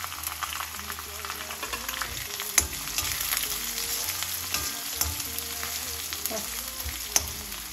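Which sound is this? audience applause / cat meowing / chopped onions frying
chopped onions frying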